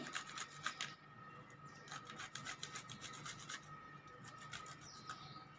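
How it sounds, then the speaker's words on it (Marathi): Raw pistachios are scraped across a grater in quick repeated strokes, a faint dry rasping close by with no talk, made while preparing homemade milk ice cream. "आणि हे जे कच्चे बदाम की कच्चे पिस्ता आहे ना हे थोडेसे किसून घेते मी"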